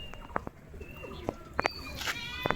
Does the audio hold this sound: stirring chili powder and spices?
no